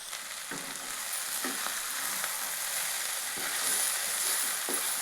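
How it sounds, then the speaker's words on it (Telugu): Ponnaganti leaves and moong dal frying in a pan give a steady, close sizzle, broken every second or so by soft scraping stirs; there is no talking. "బాగా ఫ్రై అయిపోయింది"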